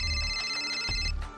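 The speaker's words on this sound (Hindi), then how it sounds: "और तभी जीतू का फोन बजने लगा।" A mobile phone rings with a bright electronic ringtone, a steady sequence of close, clear tones, with no voices.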